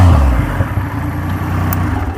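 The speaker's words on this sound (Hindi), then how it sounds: "So that's your Rocket 3 from Triumph, which is firing." A Triumph Rocket 3 motorcycle with a 2500 cc engine idles close by, a steady low rumble with a faint rev at the start, heard alone with no talk.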